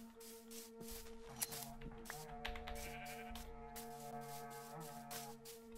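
Sheep in the Minecraft video game bleat faintly in a few short calls over steady background game music, quiet and without speech.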